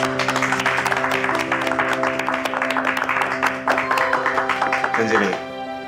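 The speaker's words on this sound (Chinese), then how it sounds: "咱大家唔得爱甲掌声鼓励一下" Office staff in a Taiwanese drama series applaud together, a dense burst of clapping that ends abruptly, with background music underneath.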